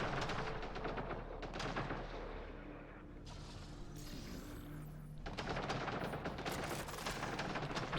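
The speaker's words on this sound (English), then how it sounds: "I'm just gonna let these guys shoot it out" A gunfire shootout in a video game, with rapid bursts of automatic fire and scattered single shots. The firing goes quiet for a couple of seconds midway, then resumes in dense, sustained volleys. It sounds fairly distant and faint overall.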